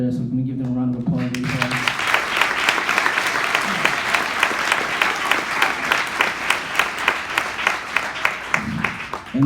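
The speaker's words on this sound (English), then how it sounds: "so can we give them a round of applause?" Crowd applauding graduating seniors, brief talk at the start giving way to a loud, sustained burst of clapping and cheering that continues steadily before a voice returns at the very end.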